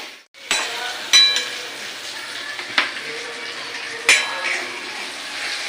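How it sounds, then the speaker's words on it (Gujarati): Leafy greens for bhaji tipped into a hot oiled pan and stirred, a steady sizzling hiss with a few sharp scraping clinks of the spoon against the pan. "ભાજી નાખી દઈએ એટલે પછી એને એકદમ હલાવીને તૈયાર કરી નાખીએ"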